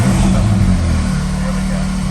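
A second-generation Acura NSX engine runs steadily while warming up, with a throaty low rumble close by that shifts slightly in pitch partway through.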